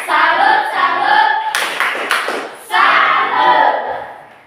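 Group of schoolchildren at a Catholic school in Merauke doing a rhythmic salute clap, loud patterned bursts of hand claps with a brief pause between sets.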